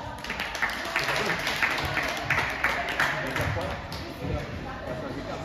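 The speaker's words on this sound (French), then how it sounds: "le triangle, on peut applaudir" Audience applauding after a martial arts triangle technique demonstration, a fairly quiet, even patter of clapping lasting several seconds with no talk over it.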